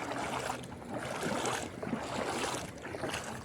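Larger boat passing on the Danube, a broad wash of rushing water and wave noise with wind buffeting the microphone, steady and fairly close.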